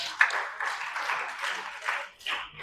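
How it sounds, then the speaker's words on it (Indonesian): Church congregation at a GBI service applauding, a soft muffled wash of clapping that swells and dips, heard from some distance. "Tepuk tangan untuk Tuhan kita."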